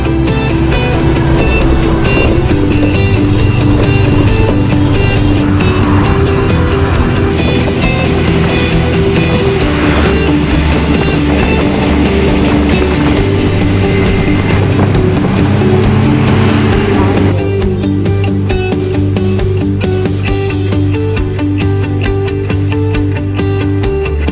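Motor scooter riding along a road in Bali, with a steady loud engine drone and rushing wind noise continuing throughout, mixed with passing traffic.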